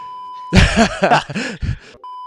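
A steady electronic censor beep tone runs at the start and picks up again at the end, with a stretch of podcast speech heard between the two beeps.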